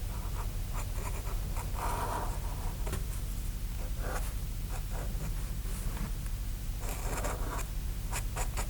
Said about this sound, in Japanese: もう濃くするだろう部分を先にペンで描いちゃってますね